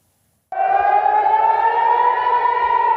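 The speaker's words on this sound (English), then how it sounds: "As you can hear, sirens are going off in Jerusalem." Air raid sirens going off in Jerusalem during an Iranian attack on Israel: a loud, steady wailing tone starts abruptly and holds, alone and without talk.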